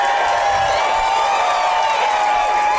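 A loud, dense wash of crowd noise fills the whole stretch, sustained cheering and whooping mixed with applause, close and continuous.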